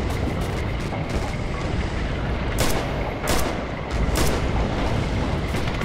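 Enemy artillery fire during a Red Orchestra 2 match on Mamayev Kurgan, a dense continuous rumble of battlefield noise punctuated by several heavy booming impacts spaced a second or so apart.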